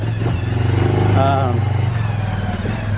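A close ATV four-wheeler engine idles with a steady low rumble and puttering pulses and a brief rise in pitch. A voice talks over it.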